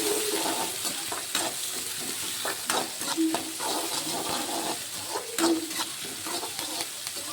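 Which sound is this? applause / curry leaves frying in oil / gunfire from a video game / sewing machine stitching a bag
curry leaves frying in oil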